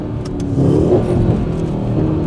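Close engine noise from a faulty Mercedes E63 S AMG, a low throaty rumble that rises as the engine revs under acceleration, steady and loud throughout.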